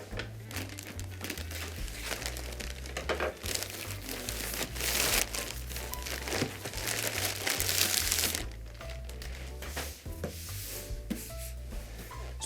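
Packaging rustled and crinkled while a pair of George Cleverley bespoke split-toe derby shoes in Russian reindeer leather is unboxed, close continuous crinkling and rubbing of paper with soft handling thumps.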